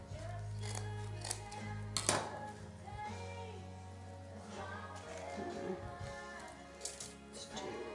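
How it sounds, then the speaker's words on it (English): Scissors snip through deco mesh ribbon ends, cutting them at an angle for a wreath, with a few sharp clipped strokes standing out close by against a busy background of handling and low hum. "Fold them in half and start at the outside edge and cut at an angle."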